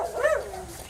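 Single short dog bark, a quick rising and falling yelp heard close and moderately loud in an outdoor morning setting.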